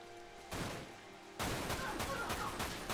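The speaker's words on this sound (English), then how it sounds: "So, machine gun it is." Machine gun fire in the video game Dirge of Cerberus: after a quiet moment, rapid bursts of shots come loud and close, breaking off briefly before a longer sustained burst.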